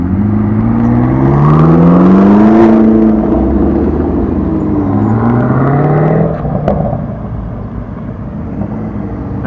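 A McLaren 570 pulls away at a cars and coffee meet, its engine loud and close with rising revs that gradually fade as the car drives off, with no talk over it.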